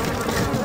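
Flies buzz steadily in a Resident Evil 4 game ambience, a continuous low droning hum with a soft airy hiss over it. The buzz is moderately loud and holds even throughout.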